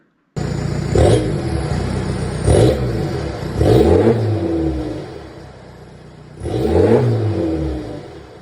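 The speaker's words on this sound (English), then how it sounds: "a clip in of what this thing did every time you revved the car when I first bought it" A Volkswagen MK6 TDI diesel engine, still on its stock ECU tune, revs up several times over a steady idle. Each rev rises and falls in pitch and sounds close and loud.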